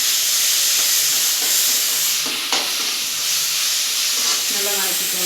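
Soya chilli idli sautéed and stirred in a hot pan, giving a steady, close sizzling hiss with faint scraping from the stirring throughout.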